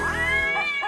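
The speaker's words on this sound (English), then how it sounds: "opens with the sounds of every cat tortured in the making of this production" A cat's drawn-out, wailing meow, loud and close, rising and wavering in pitch for just under a second with no talk.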